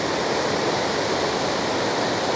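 The flooding Merced River near Yosemite's west gate rushing past, a loud, dense, continuous roar of churning high water with no break.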